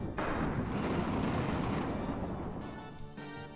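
A fire spell from the Final Fantasy Anniversary Edition game, a dense roaring burst of crackling flame that fills the whole moment and fades slightly toward the end, with no voices over it.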